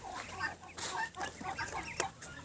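Chicks of several ages clucking and chirping in a busy cluster, several birds overlapping close by with short sharp calls scattered throughout.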